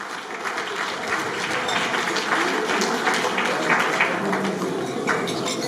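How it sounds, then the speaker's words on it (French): Wedding guests applaud in a reception hall, a steady, moderate roar of clapping from a crowd while voices talk over it. "Si on peut les applaudir,"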